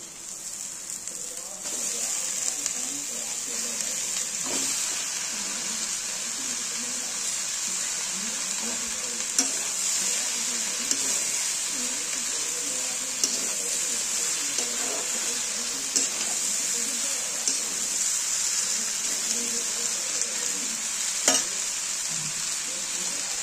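Washed pumpkin greens fry in a pan for a prawn, pumpkin and pui shaak ghonto. A constant hissing sizzle runs throughout, broken by faint stirring scrapes and an occasional clink of a utensil.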